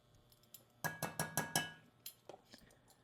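Small glass spice jars clinking together while being handled in a kitchen during enchilada prep: a quick run of five bright clinks, then a few scattered softer taps, close and fairly quiet.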